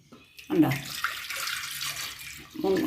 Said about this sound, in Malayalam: കുക്കറിലോട്ട് ഇട്ടിട്ട് നമുക്ക് അത് മുങ്ങിക്കിടക്കത്തക്ക പോലുള്ള വെള്ളം ഒഴിക്കണം